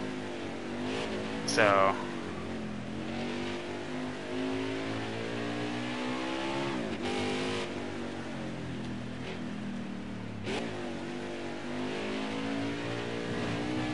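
A race truck engine revving through a lap of a small midget course, a steady loud mid-pitched drone rising and falling with throttle, one sharp rev spike early, under a driver's occasional talk.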